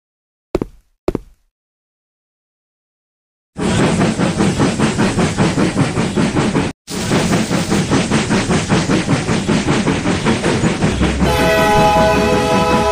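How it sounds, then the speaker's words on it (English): A train in the video game Alien Monster Life Challenge 7: two sharp knocks, a pause of silence, then a loud, continuous rhythmic clatter of wheels on rails, ending with a sustained horn blast over the rumble. "Get on the train."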